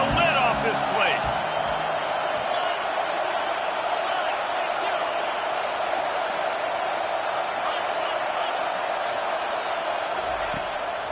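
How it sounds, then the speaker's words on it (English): A stadium crowd roaring in the NCAA 25 college football video game, a steady wide wash of cheering that holds loud and constant throughout, with a few brief knocks near the start. "3rd down, and this crowd is tearing the lid off this place."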